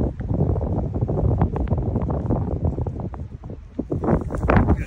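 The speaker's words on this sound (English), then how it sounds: "It's a little windy up here, but it's beautiful." Gusty wind high on the Appalachian Trail buffets the microphone with a heavy low rumble that swells and dips throughout, louder again toward the end.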